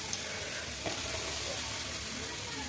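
Chili powder frying in a hot pan for mango pickle, a steady, fairly loud crackling sizzle that runs unbroken throughout with a brief stir partway.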